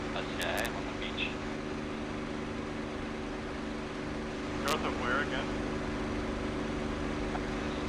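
Steady droning piston engine of a P-51 Mustang in the flight simulator DCS World, a constant low hum with tonal bands running throughout while a voice talks over it.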